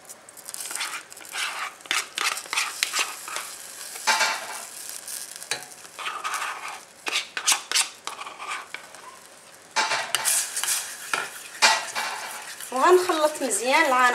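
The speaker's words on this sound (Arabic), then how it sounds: "وغنخلط مزيان العناصر" Glucose syrup and strawberry jam are stirred in a pot with a utensil, giving repeated scraping and clinking strokes against the metal, uneven bursts up close with brief pauses and some sizzle between.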